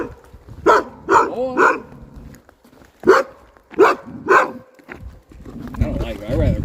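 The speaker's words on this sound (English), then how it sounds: "You gotta watch out for these dogs." On a hiking trail, several dogs bark in loud, close bursts with some yips and whines, while people talk and shout over them.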